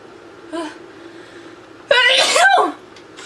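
A person sneezes up close: a short breathy intake, a pause, then one loud, explosive sneeze that trails off into a brief voiced sound.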